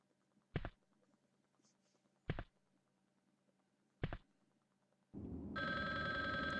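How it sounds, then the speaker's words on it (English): Telephone ringing in the video game Resident Evil Survivor: three short, evenly spaced thumps over quiet room tone, then a loud sustained electronic ring that holds to the end, with no talk. "Oh, there's that phone again."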